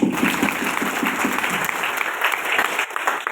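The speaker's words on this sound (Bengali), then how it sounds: "জোরে একটা করতালি দিই" An audience at a training event claps loudly and steadily, a dense burst of many hands that carries on for several seconds before thinning slightly at the end.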